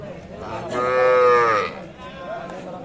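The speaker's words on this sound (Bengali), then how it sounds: "এগুলো কিন্তু ছোট বাছুর" A young calf moos once, loud and close, amid the murmur of a crowded cattle market near the border in Kaliaganj.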